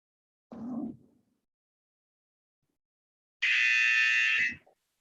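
At the start of an online conference paper presentation, a single electronic buzzer sounds for about a second, sharp and steady, after a brief low muffled sound and a stretch of silence.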